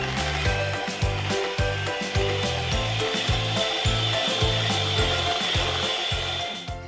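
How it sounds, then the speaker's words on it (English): Whipped cream, fresh cream and condensed milk are whisked together in a bowl: quick, even, rhythmic scraping strokes, about three per second, close and fairly loud. "now we are going to gently whisk it"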